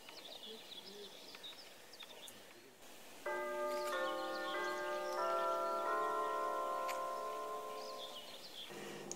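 Electronic church bells ring at a monastery in Saint Petersburg: a sequence of sustained bell tones sounds from a distance over steady outdoor ambience, with birds faintly in the background.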